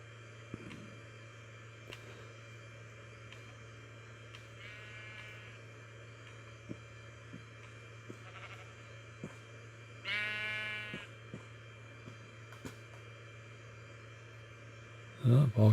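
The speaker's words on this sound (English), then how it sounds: "All kinds of all shades of the gray sheep, white, light gray, dark gray, and black." Sheep in the game Minecraft give a few short bleats over a steady low in-game hum, with a clearer bleat around the middle and a louder burst at the very end.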